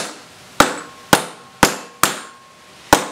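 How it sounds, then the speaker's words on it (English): A new ball bearing is hammered into a scooter wheel hub, five sharp, loud metallic strikes at an uneven pace, each ringing briefly before the next. "just mallet or hammer it into place"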